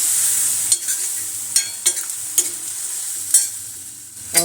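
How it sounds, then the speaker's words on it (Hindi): Spices with salt, turmeric, coriander powder and garam masala being stirred into boiling dal, a steady bubbling sizzle broken by several sharp scraping strokes of the spoon against the pot. "अब इसको मिक्स कर देते हैं।"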